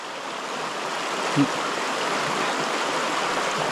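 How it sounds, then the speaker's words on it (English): Rushing stream water in Northern California roars steadily and fills the whole clip at a gold sluicing spot, with a faint voice barely surfacing under the noise. "I can't hear you over this water."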